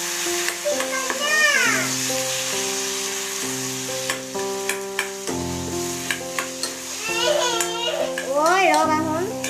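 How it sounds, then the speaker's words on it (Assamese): Pieces of boiled potato fry and sizzle in a pan, a continuous hiss under loud melodic music and children's voices. "বইল আলুকেইডোখৰ দিলে"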